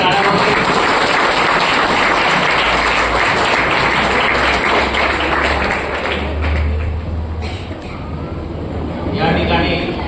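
Steady, loud applause from villagers gathered at a community family get-together fills the room continuously, dipping slightly near the end before rising again.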